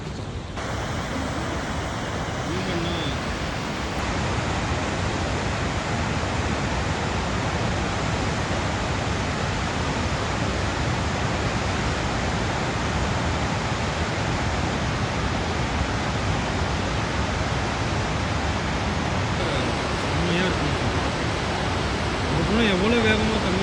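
Mallalli waterfall roars as a constant broad, loud rush of falling water, filling the whole scene without letup, with faint voices barely audible under it.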